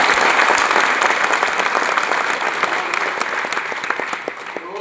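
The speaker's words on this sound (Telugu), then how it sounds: "సమకూరుస్తున్నటువంటి స్వాముల కోసం గట్టిగా చప్పట్లు కొట్టాలి." A crowd at a devotional gathering for Swamis claps loudly, a dense burst of applause that starts strong and slowly thins and softens over several seconds, with no speech over it.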